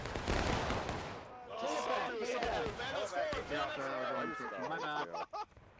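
A musket volley cracks out at the start of a historical line-infantry video game battle, a dense burst of overlapping shots, then gives way to loud excited shouting and talking.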